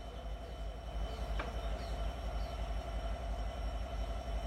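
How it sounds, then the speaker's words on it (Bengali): A local train at a small rural railway station in Bangladesh, a steady low rumble of rolling carriages with faint metallic screeches, continuous and moderately distant. "এই স্টেশনে শুধু 2টি লোকাল ট্রেন থামে।"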